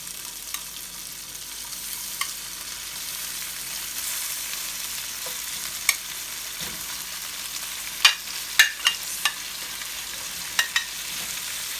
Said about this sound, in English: Now we're going to go ahead and add our shrimp.